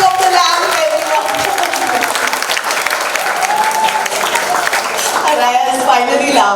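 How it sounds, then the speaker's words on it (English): An audience at a book launch applauds the ceremonial lighting of the lamp. Loud, sustained clapping from a crowd runs throughout, mixed with voices and music tones. "a round of applause for the ceremonial lighting of the lamp"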